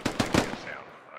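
Rapid bursts of gunfire in the SquadOps video game, a few loud close shots at the start trailing off into fainter, more distant fire.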